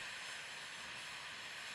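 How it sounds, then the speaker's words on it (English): High-pressure geothermal steam hisses from a deep drill hole in Iceland, a constant broad hiss that stays faint and even, with nothing else heard. "high-temperature water and steam that shoots up towards the Earth's surface with high pressure"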